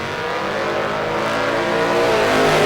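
Drag racing cars launching at a bracket race in the DRP Pro 64 car shootout, a loud, rising engine roar as they accelerate hard off the line.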